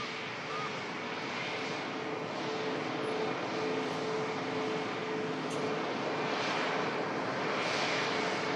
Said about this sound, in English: KLM City Hopper coming in.